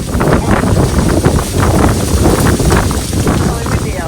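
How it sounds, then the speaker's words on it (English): Strong wind buffets the microphone outdoors ahead of a cold front, a steady loud roaring rush with no letup, while someone talks beneath it. "It's really windy out here"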